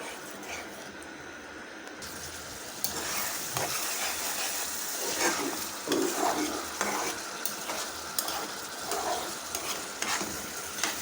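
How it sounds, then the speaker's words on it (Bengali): Beef fat cooks in broth in a pot for khichuri, bubbling and hissing steadily while a utensil scrapes and stirs at close range. "চর্বিটা সিদ্ধ হওয়ার জন্য আমি ঝোলটা দিয়ে দিয়েছি"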